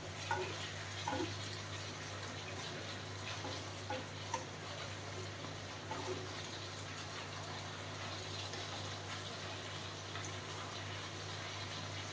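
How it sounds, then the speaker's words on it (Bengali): Spice paste (masala) frying and bubbling steadily in a pan while cooking chitol fish muitha, a continuous close sizzle with soft crackles and a low hum beneath, no talking. "এবার মশলাটা ফুটুক, এটা এবার আমার কষে এসছে"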